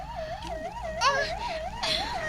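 An ambulance siren wails in a steady rising-and-falling cycle, moderately loud and sustained, with a few brief sharper sounds over it.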